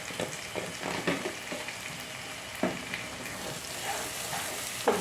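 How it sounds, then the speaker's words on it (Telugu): Chili powder frying in hot oil for an egg and raw prawn curry, a soft continuous sizzle broken by scraping stirs and light taps of a spoon against the pan, close by and without talk. "కొద్దిగా వేగాలండి కారం."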